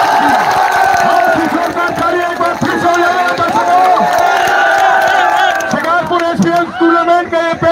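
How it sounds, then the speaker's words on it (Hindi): Crowd at a cricket tournament final, with loud clapping mixed into a busy din of cheering voices and shouts, sustained throughout with a few louder bursts toward the end. "जोरदार तालियां"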